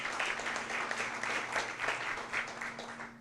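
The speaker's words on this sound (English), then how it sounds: "So give them a round of applause." Audience applause at a chamber of commerce luncheon, a steady wash of many hands clapping that holds evenly through the clip without pause.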